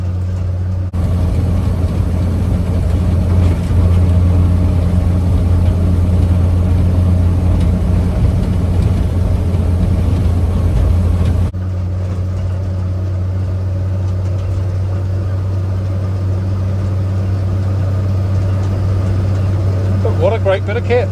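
A 1953 Chevrolet 6100 flatbed truck engine drones with a deep, steady low rumble while driving, dropping to a softer idle-like tone partway through, as someone talks over it.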